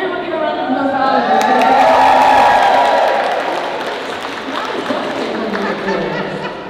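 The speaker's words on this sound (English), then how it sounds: "Alan, can everyone give a round of applause?" Audience applause with cheering and crowd noise, swelling to a peak then tapering slightly while clapping continues steadily throughout; scattered laughter and shouts mix in, no clear speech.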